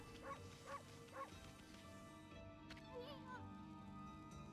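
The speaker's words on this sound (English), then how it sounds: "I can bark." A wolf barking in the video game Okami, three short yipping barks in quick succession, faint under steady background music.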